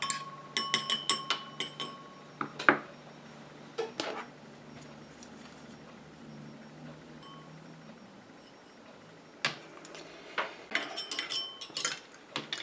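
A utensil clinks and taps against a container while urea is stirred into water for a homemade hand cream, with light irregular scraping in short clusters at the start and end and quiet in between.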